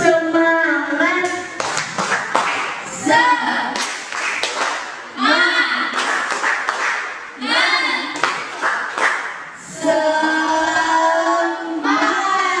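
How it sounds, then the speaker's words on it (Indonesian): A group in an Indonesian class session performs the tepuk semangat spirit clap: sharp rhythmic hand claps in quick bursts alongside loud chanted voices, repeated across several short patterns. "Tepuk semangat."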